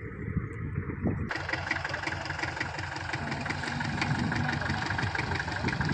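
A tractor engine chugs at a steady idle on a farm field, a continuous mid-pitched knocking rumble that rises after a short quieter start and holds loud and near throughout.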